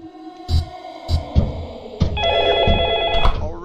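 Phone ringing in a Five Nights at Chuck E. Cheese's video game, a sustained electronic ring sounding for over a second over thumps and background game noise.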